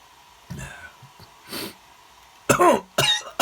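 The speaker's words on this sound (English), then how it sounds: "I keep coughing" A few short, harsh post-COVID coughs sound close by, separated by brief pauses, ending in a louder burst of two.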